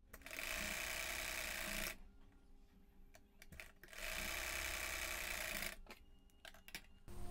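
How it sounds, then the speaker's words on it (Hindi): A sewing machine stitches a child's frock strap in two loud, sustained bursts of rapid whirring, separated by a quieter pause with light handling clicks. "यहाँ से सिलाई लगाएं।"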